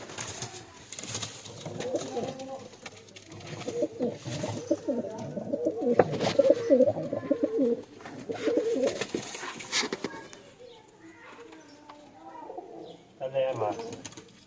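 Low cooing of village pigeons with chicks, repeated throaty coos close by, mixed with people talking at times and a few softer calls near the end, on a rainy winter day.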